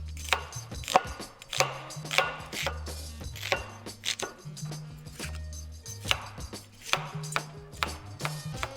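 A knife chops through an onion on a cutting board, giving a series of sharp, close thuds and slices in an uneven rhythm, with low background music underneath.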